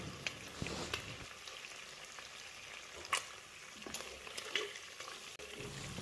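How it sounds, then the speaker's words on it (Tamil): Steady crackling sizzle of shrimp frying in hot oil for biryani, continuous and close, with a few sharper pops and clinks scattered through. "நல்லா ஒன்று போல் ஃப்ரை ஆகட்டும்."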